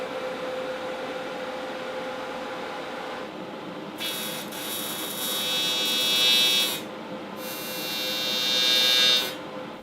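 Welding on the bottom of a gas tank for a mini trike build. Two sustained bursts of harsh crackling sizzle, each a few seconds long, rise over a steady background hum and are separated by a short pause.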